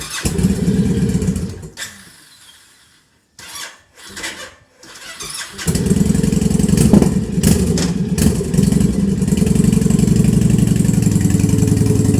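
Motorcycle engines at a bikers' gathering by a lake in Zakarpattia, close and loud, with idling rumble, an engine cutting out and restarting, throttle blips, then a steady low idle from several bikes.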